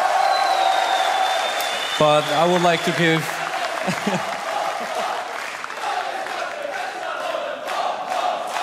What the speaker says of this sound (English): I'm so proud of you guys for cheering